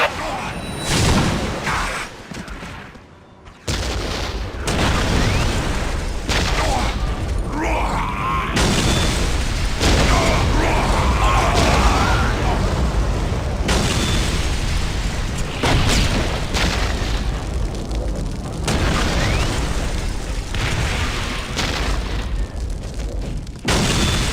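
Whirlwind artillery tank missile battery firing in the Warhammer 40,000: Dawn of War strategy game, with dense rolling booms and blasts layered into continuous loud battle noise, plus occasional game voice lines.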